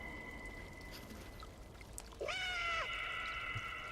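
Cats meow in a video game, a single clear, drawn-out meow that rises and holds over a faint background hiss, with no talk around it.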